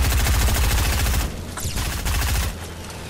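Rapid automatic gunfire aimed at an enemy in a video game, loud repeated bursts close up, briefly thinning before another burst and then dropping off.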